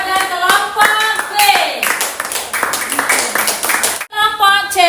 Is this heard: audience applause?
yes